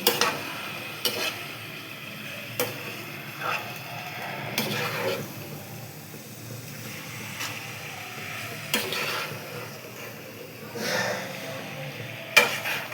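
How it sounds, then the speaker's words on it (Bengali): Pasta being stirred in a pan at home, heard as quiet scraping strokes at an irregular pace over a faint, steady background sizzle, with no talk. "এবার আমি পাস্তাটা দেবো। এটাকে ভালো করে মিক্স করব।"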